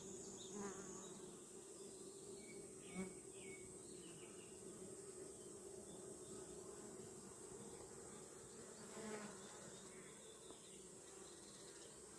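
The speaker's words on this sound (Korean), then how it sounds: "많은 벌들이 벌통을 들락날락 꿀을 모아오는 모양이죠" Honeybees buzz steadily around their hives deep in a mountain forest at night, a continuous low hum with a few louder passes close by and a constant high insect drone underneath.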